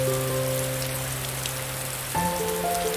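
Steady, close rain patters evenly over a rainy city in an anime scene, with soft sustained musical tones layered underneath and no talking.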